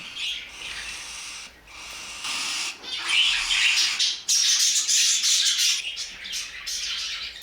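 Budgerigar chicks calling for food in a nest, close, rasping squawks repeated in a steady stream and rising in intensity when approached, with short gaps between bursts.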